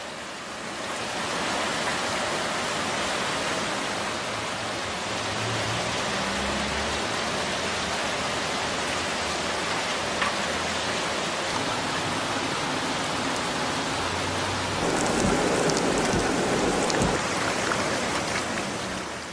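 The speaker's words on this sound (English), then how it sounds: "KB Home, the lot is completely flooded during a rain." Steady rain pours down on a completely flooded house lot, a dense, even wash of broadband hiss with low rumbles throughout and a brighter, splashier burst near the end, no voices present.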